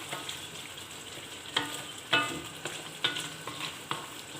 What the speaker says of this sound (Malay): Kacau sekejap lah untuk dalam seminit macam ni, sebab semua dah masak.